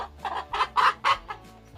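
A hen gives a short run of about five close, rhythmic clucks, clear and alone over a faint low background hum.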